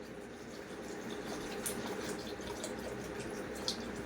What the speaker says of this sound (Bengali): এবার আমি জলটা ঢেলে দেবো এর মধ্যে।